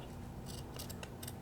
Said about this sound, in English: trim off the excess felt on the back